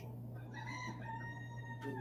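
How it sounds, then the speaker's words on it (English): A rooster crows at night, one drawn-out call that rises and holds over a steady low electrical hum, fairly faint and alone without speech. "Can you guys hear that rooster?"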